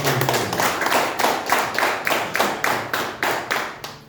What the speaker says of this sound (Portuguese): pode louvar o Senhor nosso Deus com palmas de vitória por Deus